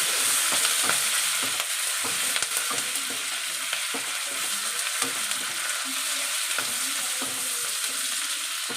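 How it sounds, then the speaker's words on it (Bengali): Green chillies frying with ginger and garlic in a pan for chilli chicken: a steady, close crackling sizzle with soft scraping stirs throughout, no voices. "তো আমার আদা রসুনটা ভাজা হয়ে গেছে, এবার আমি কাঁচা লঙ্কাগুলো দিয়ে দেবো।"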